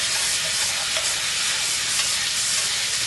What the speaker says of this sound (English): we are going to add our garlic first. And stir that around.